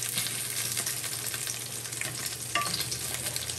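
Steady, crackling sizzle of pork belly frying in a hot pan, continuous with small pops and no voices.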